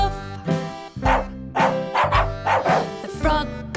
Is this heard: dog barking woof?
yes